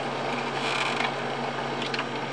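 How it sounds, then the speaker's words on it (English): A Jobo CPE2 film processor turns its drum with a steady mechanical whir and faint ratcheting clicks, close and continuous with no talk. "Lower it back down, it'll keep spinning."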